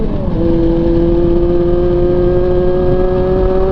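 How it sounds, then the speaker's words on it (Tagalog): Honda CB400 motorcycle engine whines steadily while riding along at cruising speed, a sustained tonal drone with wind rush, no talking. "Asa itong motor natin mauungol, kaya akala mo mabilis eh."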